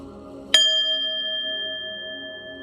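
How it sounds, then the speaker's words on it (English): A single bell is struck once in a quiet room during a career card reading, its bright metallic tone ringing clearly and sustaining with a long, slowly fading hum. "I'm gonna ring the bell"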